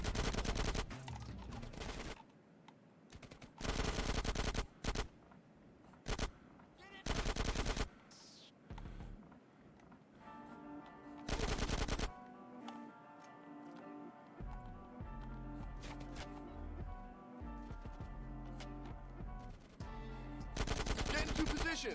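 Bursts of MP5 submachine gun fire in Grand Theft Auto: San Andreas, loud rapid volleys repeating in short bursts with brief gaps, later over a steady background of game music and ambience.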